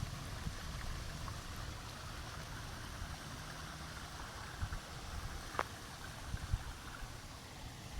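Canal water flows steadily through a coconut grove, a continuous low rushing burble heard outdoors, with a few faint knocks and clicks over the top.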